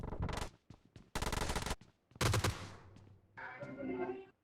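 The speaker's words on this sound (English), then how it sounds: "Cái Vector bắn tầm gần và mẹ nó hai mấy viên đếm chết" A Vector submachine gun fires at close range in PUBG Mobile, with several rapid automatic bursts loud and near, separated by brief pauses, ending in a different, rattling burst.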